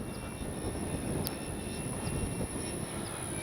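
An FMS P-51 Miss America radio-controlled warbird flies in a steady, faint, distant engine drone with no pauses, heard outdoors on a gusty crosswind day.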